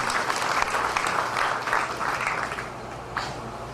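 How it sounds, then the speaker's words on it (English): An audience at a Ganesh Utsav festival celebration claps continuously in a dense wash of applause that fades slightly toward the end. "please give a round of applause and your blessings to them"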